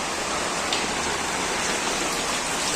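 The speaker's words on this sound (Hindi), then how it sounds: "बहुत तेज़ बारिश हो गई है" Heavy morning rain pours down steadily in a rural yard where a goat and cow shelter, a dense, continuous hiss of drops that fills the whole clip without a break.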